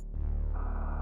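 A mobile phone gives a short, faint tonal notification chime lasting about a second, heard alone.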